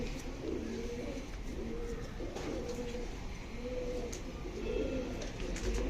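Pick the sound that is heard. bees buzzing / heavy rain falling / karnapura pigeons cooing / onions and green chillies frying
karnapura pigeons cooing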